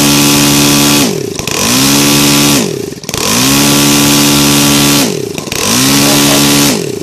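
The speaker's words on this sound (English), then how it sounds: "So as you can see, the engine is really responsive. The CDI unit works pretty good on it." A YS 160 DZ model aircraft engine, converted to glow CDI ignition, revs loudly in repeated cycles, rising to a sustained high-pitched scream, then dropping to idle before climbing again.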